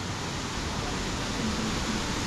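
Waterfall pouring from a cliff fed by springs, heard as a continuous broadband rush of falling water, steady and fairly loud with no pauses.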